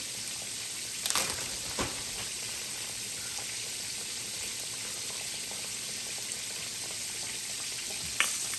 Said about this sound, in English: I'm gonna go ahead and add my fries, my homemade fries